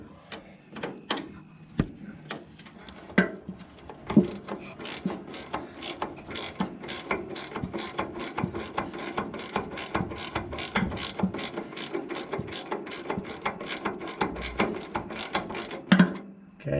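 Steady, rapid ratchet wrench clicking while loosening a nut on a Walker PerfAerator lawn aeration attachment, with a long run of close, even metallic ticks and a few heavier clunks.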